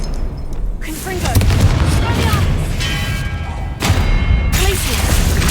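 Confringo explosive spell cast during a boss fight in the video game Hogwarts Legacy, loud booming blasts and crackling impacts over a dense, continuous game soundtrack, with a voice calling out spells.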